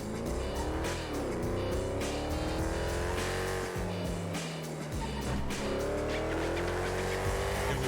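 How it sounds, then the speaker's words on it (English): A V8 Sultan car in the GTA V video game roars loudly, its engine revving up and shifting through rising pitch sweeps, with a brief drop in revs midway and tire noise, continuous and close. "I don't think the V8 Sultan is this loud"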